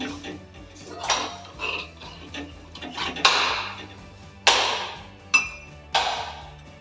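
A spoon stirs milk in a metal pot for baby kheer, tapping and scraping against the sides in irregular, close clinks and pings, with a few louder knocks.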